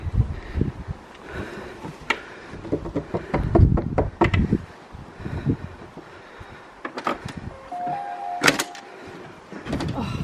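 Several sharp knocks on a door come in scattered bursts, loud and close, with rustling and handling noises between them.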